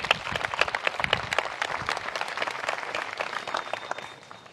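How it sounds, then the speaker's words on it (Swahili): Audience at a JKT army camp gathering bursts into sustained applause, dense rapid clapping from many hands that continues steadily then begins to taper off at the end. "Jipigie makofi."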